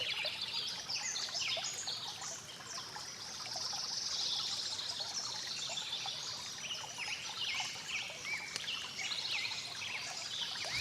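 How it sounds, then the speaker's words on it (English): A small stream trickles steadily beneath a dense hillside forest canopy, a continuous close babble of water with faint bird calls in the background. "Small streams flow year-round beneath the canopy of these dense hillside forests"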